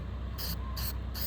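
Three quick hissing bursts of shine spray from a spray bottle, evenly spaced and close, with a low steady hum underneath.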